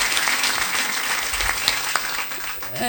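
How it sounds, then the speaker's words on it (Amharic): A church congregation claps together, a dense continuous roar of many hands filling the room at an even, loud level, with a faint voice or two underneath. "አጨብጭቡ ጉባኤ ለጌታ ክብር።"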